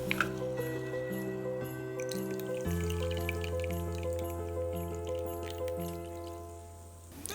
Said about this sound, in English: Filling up the glass with Sprite.